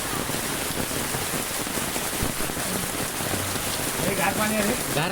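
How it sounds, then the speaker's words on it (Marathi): The first monsoon rain falls on a Konkan village in Kumbhavade, Rajapur, a dense, steady patter of rain on surfaces filling the scene, with a faint voice briefly under the downpour. "अरे पहिला पहिलाच पाऊस आला"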